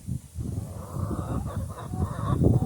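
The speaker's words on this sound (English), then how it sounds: "Rescue the chicken again." Chickens in a backyard coop give low, throaty clucks and honk-like calls in short, uneven bursts that grow a little busier toward the end.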